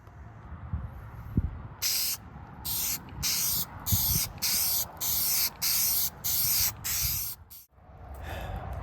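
Spray can applying bed liner to an aluminum camper shell for a Tacoma outdoors, giving about ten loud, close hissing bursts of roughly half a second each in a steady rhythm over a light outdoor background.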